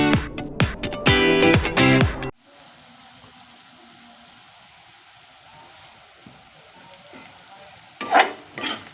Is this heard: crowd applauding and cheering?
no